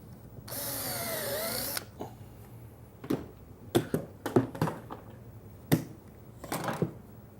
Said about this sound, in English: Now I'm using a Vicks bit, just a brand name, but this is a self-centering bit.